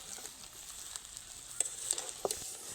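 Dried jujubes (kul) are stirred with sugar in a pan over a very low flame for pickle, giving a quiet soft sizzle with a few light scrapes and clicks from the spoon, and no talking.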